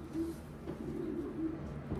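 Racing pigeon, a medium-sized cock, cooing in a series of soft, low, repeated coos close by, with no talk over it.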